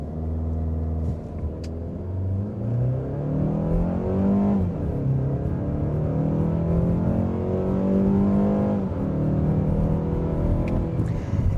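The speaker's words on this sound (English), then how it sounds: "let's try the 0 to 60 on the same stretch where we tested the RAV and see how the Mazda compares" A 2026 Mazda CX-5 launches hard from a brake-torqued standstill to 60 mph, its engine rising loud and steady through the gears, with a shift dip midway and a continuous, close-miked roar.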